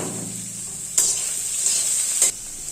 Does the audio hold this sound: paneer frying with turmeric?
yes